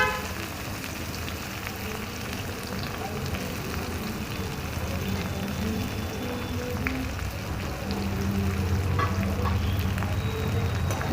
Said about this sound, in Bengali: পেঁয়াজটাকে একটু ব্রাউন কালার হওয়ার পর্যন্ত একটু ভাজতে হবে